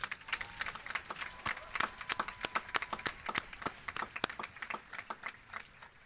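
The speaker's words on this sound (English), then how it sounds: "Please give them a round of applause at this time." Scattered, fairly faint hand claps patter steadily for several seconds at the Sebastian River High School Class of 2025 graduation ceremony, greeting the graduating seniors.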